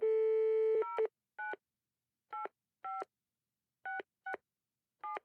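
A telephone's dial tone gives way to a series of touch-tone dialing beeps, short evenly separated tone bursts, clear and close with no talking.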